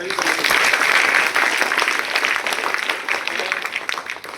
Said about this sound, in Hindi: आप लोग बच्चे जोरदार ताली